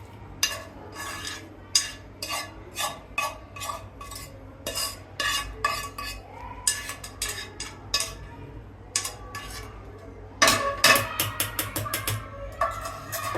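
A spoon scrapes and taps against a pan of golden fried onion and turmeric as ingredients go in, with the gas off: sharp irregular clinks in quick bursts, busiest near the end, and no talking.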